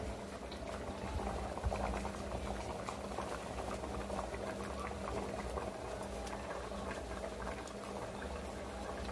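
Dal bhuna simmering in a pot on a clay stove, a continuous faint bubbling and popping with a low steady rumble underneath, no talk.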